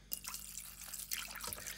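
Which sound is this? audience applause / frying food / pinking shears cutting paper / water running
water running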